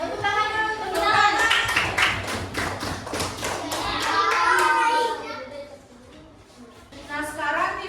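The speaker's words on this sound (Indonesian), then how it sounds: "Tepuk tangan dulu, tepuk tangan." A classroom of children applauds together, a burst of quick overlapping claps in rhythmic waves that fades and then briefly resumes, with children's voices mixed in.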